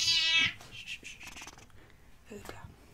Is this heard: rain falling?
no